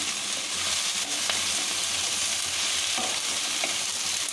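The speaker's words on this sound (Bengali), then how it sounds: "এইভাবে ঢাকা দিয়ে দিয়ে লতিটাকে একটু ভাজা ভাজা মতন করে নেব" Chopped taro stolons (kochur loti) fry in a covered pan for a traditional Bengali prawn dish, giving a steady, dense sizzle throughout, with occasional faint scrapes of stirring and no talking.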